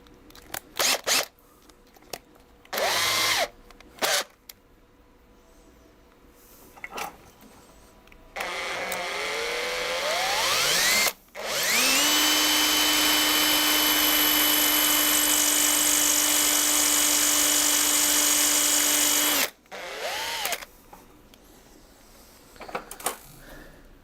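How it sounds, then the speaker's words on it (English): A power drill fitted with a 3mm bit works during a Sovol SV08 toolchanger 3D printer build: short bursts at first, then a long steady loud whine of about eight seconds, followed by a few brief pulses. "I'm going in with a 3mm drill bit."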